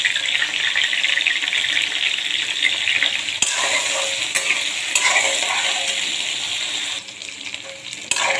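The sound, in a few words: frying and stirring taro in a pan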